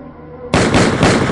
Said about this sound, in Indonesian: tembakan menyasar ke arahnya